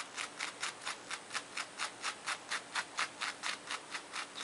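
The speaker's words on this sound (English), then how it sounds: "Sometimes it helps to have a wire brush also." A small wire brush combs through fabric seams for appliqué paw pads in brisk, even strokes, roughly sixteen soft scratchy brushes in steady rhythm, close and quiet with no voices.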